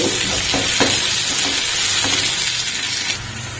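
Red chilli powder is stirred into tomato gravy frying in a pan, giving a loud, continuous sizzle broken by repeated spoon or spatula scrapes, with no voices.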